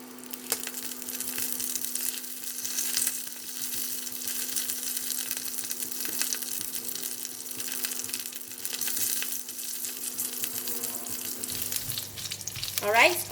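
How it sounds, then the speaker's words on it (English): Mustard seeds, cumin seeds, chili and curry leaves fry in hot oil for a coconut chutney tempering, a steady close sizzle with scattered crackles and pops throughout and a brief louder crackle near the end. "We're going to cook until mustard seed and the cumin seed pop up, and we're going to put in the curry leaf as well."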